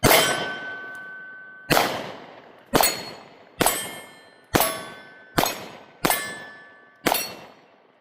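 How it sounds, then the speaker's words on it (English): Eight sharp pistol shots from a Taurus GX4 with a 4-inch barrel crack out at uneven intervals, each loud report trailing off into a short ringing decay outdoors. "let's do a few more shots here"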